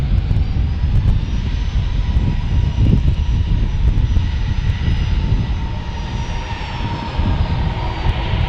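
A Southwest Airlines jet at San Diego airport roars loudly and steadily, a broad, heavy engine rumble that continues throughout with no talk.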